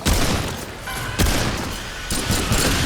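Bursts of rapid gunfire in the video game Remnant II crackle in quick volleys, with sharp loud shots separated by brief pauses.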